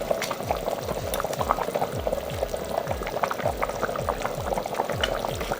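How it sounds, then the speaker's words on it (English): Pasta noodles boil in a pot of water for beef rigatoni, with a continuous bubbling and popping texture, moderately close and steady throughout. "we're gonna go ahead and start cooking our noodles"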